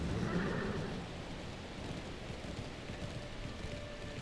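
Steady rain patters throughout the foggy, gloomy intro of the medieval life RPG Mirthwood, with a horse's whinny heard faintly near the start. No one speaks.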